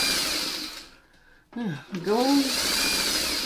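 A sewing machine stitches quilt pieces of a weird-shaped four-patch block, pivoting at a line. A short motor whir is followed by a pause with a brief spoken word, then the stitching whir starts again, close and fairly loud.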